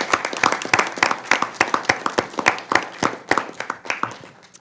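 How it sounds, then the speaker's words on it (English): Audience at a school board meeting breaking into applause, a dense run of sharp hand claps that thins and fades toward the end. "let's give them another round of applause"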